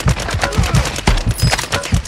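Rapid automatic gunfire in Call of Duty Warzone 2.0 DMZ on the Vondel map, with a loud, close burst of repeated shots in a fast, fairly regular rhythm.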